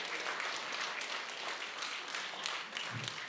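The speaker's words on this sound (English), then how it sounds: "Give Jake a round of applause," A live comedy show audience gives a round of applause for a guest called Jake, dense steady clapping filling the room, loud and close, with no talk over it.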